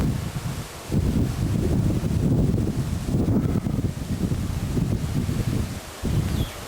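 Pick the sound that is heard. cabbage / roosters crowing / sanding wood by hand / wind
wind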